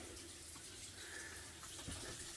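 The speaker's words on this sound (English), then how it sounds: "I have got water running here in the kitchen" Water runs steadily from a kitchen faucet in an RV, a faint continuous hiss and splash with no talking.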